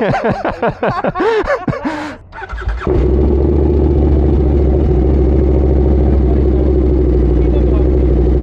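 A Triumph Scrambler 400X motorcycle engine revs sharply a few times with rising and falling throttle blips, then settles into a loud, steady, close idle rumble.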